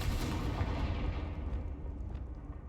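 A Confringo fire spell blasts in Hogwarts Legacy, a loud, broadband burst with a rumbling low end that rolls on for a few seconds before fading slightly.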